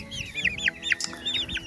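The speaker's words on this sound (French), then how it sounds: "Là, je pense qu'on a un coq Brahma." A Brahma rooster and hens cluck close by in a farmyard, with a quick run of rising and falling calls that overlap in an uneven rhythm.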